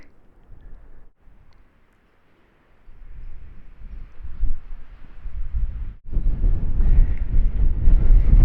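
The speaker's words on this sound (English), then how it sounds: "It is really windy in these grasslands" Strong wind gusts across open Montana grassland, rumbling and buffeting close to the microphone with a brief lull, then building to a loud, steady roar in the final seconds.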